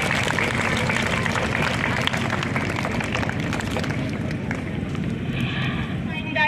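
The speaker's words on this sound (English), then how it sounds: "A big round of applause." Applause breaks out from a school audience at a Christmas celebration, a steady wash of many hands clapping at moderate distance under a voice, tapering off near the end.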